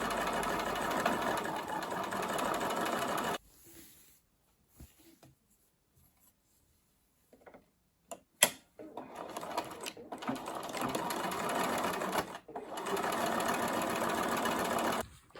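A sewing machine stitches the short edges of a utility skirt with bursts of fast, close whirring running at the start and end. The bursts are split by a near-silent pause broken by a few sharp clicks and handling noises.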